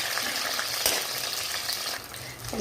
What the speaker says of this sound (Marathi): टमेटी पुरी मस्त आपल्याला तेल येईपर्यंत फ्राय करून घ्यायची